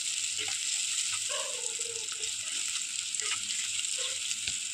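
Vegetables stir-fried in a pan for restaurant-style dry chilli chicken give a steady broadband sizzle, close and fairly quiet, with light scraping and clinks of stirring scattered through.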